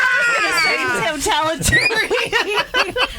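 A six-year-old child in a radio studio lets out high, shrill screams mixed with squealing, giggly bursts, loud and close, rising and falling over a few seconds.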